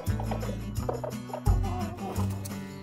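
A cartoon hen clucks in an animated Jack and the Beanstalk story, giving several quick, bright bursts close up with short pauses between them.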